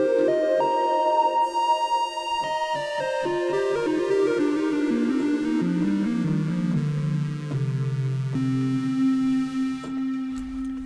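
Doepfer modular synthesizer patch, mostly built from Doepfer modules, playing a sustained, evolving tone with gliding pitch and a rich harmonic buzz, steady and loud with no talking.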